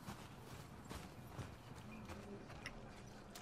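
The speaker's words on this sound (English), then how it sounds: "Ooh, horse." Horse hooves clip-clop faintly at a walking pace in The Last of Us Part II, a soft, steady rhythm under a quiet ambient backdrop with no talk.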